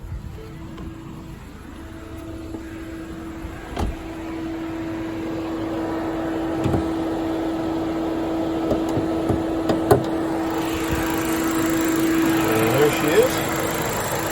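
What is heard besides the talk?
2018 Ford Fiesta 1.6 liter engine running, cooling fans on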